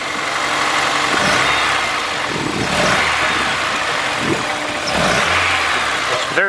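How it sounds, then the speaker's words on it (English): A mid-sized car engine is blipped repeatedly from idle, with three or four short throttle bursts rising over a rough, shaking idle, heard close and without talk. "Let me burp the throttle."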